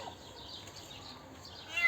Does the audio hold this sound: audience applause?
no